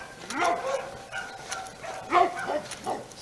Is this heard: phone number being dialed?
no